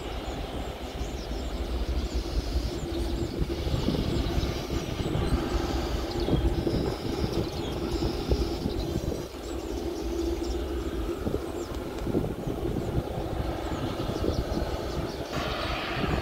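A Wings Air airliner readies for takeoff at Sultan Hasanuddin International Airport in Makassar, its engines giving off a steady, broad roar with a rising whine, heard from a distance and continuing unbroken throughout.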